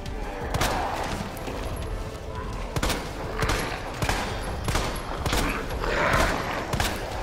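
Gunfire in the Resident Evil 2 Remake Ghost Survivors DLC, a series of sharp shots spaced irregularly a second or so apart over a dense in-game background of rumble and noise.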